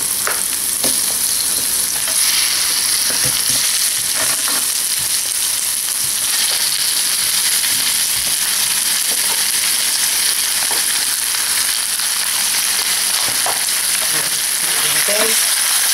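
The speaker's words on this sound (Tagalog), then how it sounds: "Igasin natin itong maigi hanggang sa maging golden brown yung ating chicken" Chicken portions sauté in hot oil in a pan with ginger for tinola, giving a loud, continuous sizzle with occasional clinks and scrapes of stirring throughout.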